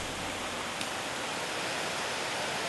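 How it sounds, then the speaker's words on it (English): A mighty waterfall in the Amazon jungle, heard from a distance as a dense, constant broadband roar of rushing water that fills the surroundings at a steady moderate level, with no voices. "From a distance, you can see and hear the mighty falls as it takes over the jungle ambience."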